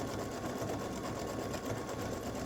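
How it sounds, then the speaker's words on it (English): An embroidery machine runs a fill stitch on the handles of a scissors design, giving a steady, rapid mechanical whirring and needle chatter that stays even and close throughout, with no talk. "we're doing a fill stitch on the handles"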